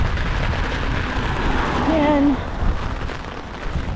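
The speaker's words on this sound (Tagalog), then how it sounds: "Grabe na talaga to guys. Ulan talaga to," Heavy typhoon rain in Muscat pours down in a steady, dense roar that stays loud throughout, with a person talking over it.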